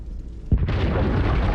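Catapult artillery strike in the video game Borderlands 3, a sudden heavy boom that hits after a quiet moment and then rolls into a sustained rumbling roar.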